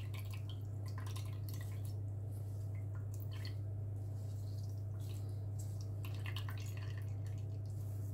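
Liquid drips steadily from something being firmly squeezed by hand, a cold and flu remedy being wrung out, with soft irregular drops over a constant low electrical hum.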